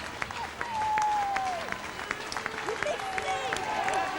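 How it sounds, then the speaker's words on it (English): A rugby league crowd applauds in the stands after a York versus Keighley match, steady clapping heard from a distance with a whistle-like tone and some voices mixed in. "As a crowd still show their appreciation"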